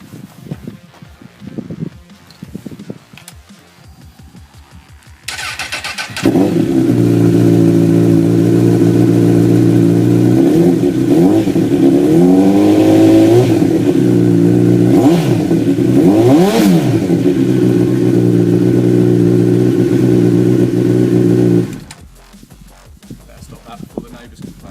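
A Yamaha R6 motorcycle fitted with an aftermarket exhaust fires up after a few quiet seconds, then idles loudly with repeated sharp revs before shutting off, leaving near silence.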